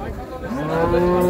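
A single cow moos loudly and close by at a Qurbani cattle market, a low drawn-out bellow rising in pitch over about a second.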